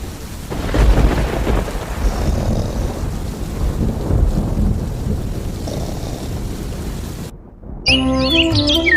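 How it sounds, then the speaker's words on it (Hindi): Steady rain and a low thunder rumble fill a cartoon scene, loud and continuous, before the storm cuts out and a brief bright musical sting takes over. "बाहर बारिश अब भी हो रही थी"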